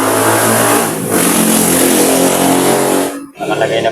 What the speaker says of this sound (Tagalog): testing naman po natin ang kanyang pinaka dryer kung okay